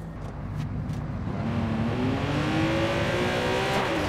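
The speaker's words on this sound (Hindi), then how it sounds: "मस्त आवाज की इस गाड़ी में" A Lamborghini engine in the video game Watch Dogs 2 revving up, its pitch rising steadily over a few seconds as the car accelerates, loud and close with no talking.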